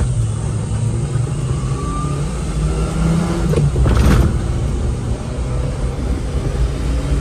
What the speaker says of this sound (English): First time driving a 6-wheel K truck.